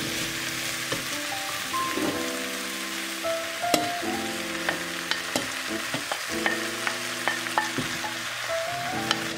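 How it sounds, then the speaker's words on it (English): Leek, carrots and potatoes sizzle in a pot for a salmon chowder while a utensil stirs and scrapes, producing regular clunks over a steady frying hiss, with no talking. "I'm just gonna stir fry that for a little bit"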